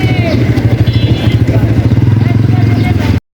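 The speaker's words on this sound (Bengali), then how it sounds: "এই যে বাইক কই যায়?" A motorcycle rides along a rough, broken road near an airport, its engine putting out a loud, close, steady rumble with pulsing low throb while people chatter over it.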